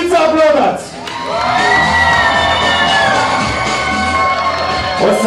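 A crowd at a student freshman ball shouts and cheers loudly in a sustained roar with high whoops, dipping briefly near the start and then swelling again.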